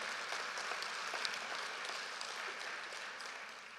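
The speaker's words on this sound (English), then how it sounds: "Please give a big round of applause for her." Audience applause fills a hall after a Bharatanatyam arangetram dance performance in Chicago, a dense, steady wash of clapping that stays loud and even throughout.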